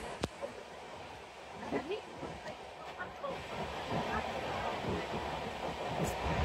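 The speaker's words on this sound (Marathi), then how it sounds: "आम्ही ट्रेन मध्ये बसलेलो आहोत" Heard from inside a passenger train on a trip to the Konkan, a steady rolling rumble with faint rail clatter and hiss builds gradually, with voices murmuring in the carriage.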